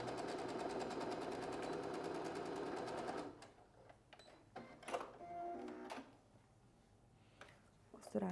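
A sewing machine runs steadily for about three seconds while backstitching a piece of fabric for a backpack-style bag, then stops, followed by quieter handling clicks and rustles.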